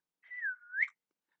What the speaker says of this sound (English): you can whistle